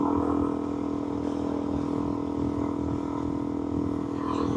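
A limited edition black and gold 2021 Yamaha XSR 900 motorcycle, its engine running with a steady mid-level rumble at moderate distance and no voices.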